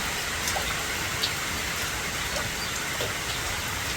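Steady heavy rain falls throughout over rice paddies, a dense hiss of drops on surfaces with a few faint individual drips, no voices.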